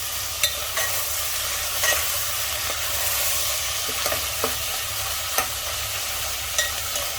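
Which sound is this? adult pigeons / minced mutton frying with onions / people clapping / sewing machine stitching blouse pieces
minced mutton frying with onions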